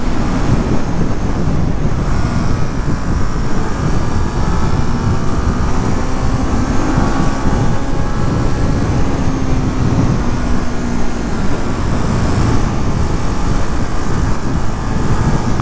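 A 2022 Ducati Monster Plus with its Testastretta engine under way, a loud steady engine drone heavily mixed with rushing wind noise, continuous and unbroken, with no voices.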